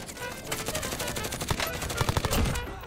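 Rapid gunfire from an AX50 sniper rifle and other weapons in Call of Duty, with dense bursts that peak in a cluster of sharp close shots near the end, backed by faint game noise.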